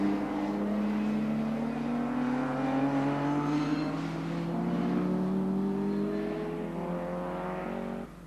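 Classic race cars, including a Porsche 928 S4 and an Escort RS 2000, passing on the Anglesey circuit, loud engine notes rising and overlapping as several cars accelerate past, sustained and roaring with no talk.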